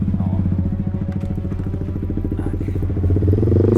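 A motorcycle engine idles and revs close by, a steady rhythmic putter with a rough clattering edge that swells slightly louder toward the end.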